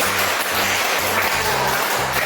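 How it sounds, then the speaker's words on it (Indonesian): A class of children applauds together, a dense, steady clatter of clapping that fills the whole stretch at close range. "sekarang tepuk tangan untuk kita semua dulu ya"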